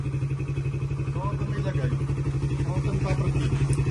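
A motorcycle engine idles close by in a fast, steady throbbing rhythm as the bike is moved aside during a storm, with people talking over it.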